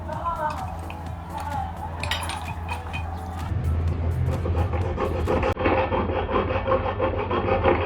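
A saw cutting through a metal folding bike seat post, steady rasping back-and-forth strokes, close and loud, with someone talking over part of it.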